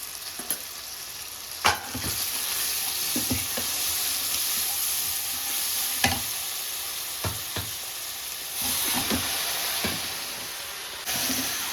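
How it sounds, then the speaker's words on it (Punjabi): Vegetables sizzle loudly in a pan after a tadka tempering is poured over them, a continuous close frying hiss broken by occasional clinks and stirring scrapes, with no one talking. "ਸਾਡਾ ਸਬਜ਼ੀ ਨੂੰ ਲੱਗ ਗਿਆ ਤੜਕਾ"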